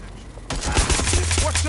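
Gunfire in the video game Watch Dogs: Legion, a sudden loud burst of rapid shots following a quiet moment, sharp close cracks continuing in a busy clatter.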